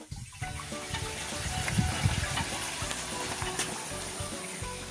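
Homemade liquor trickles and drips from a still in Quezon, a steady wet sizzling, gushing sound up close with no pauses, with some faint background activity mixed in.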